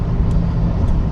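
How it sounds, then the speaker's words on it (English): Loud road noise fills a car's interior while driving, a constant heavy low rumble and roar with no voices over it. "It is so loud inside this car."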